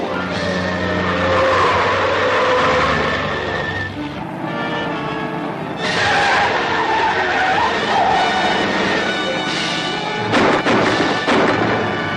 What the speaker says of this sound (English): There's a car behind us.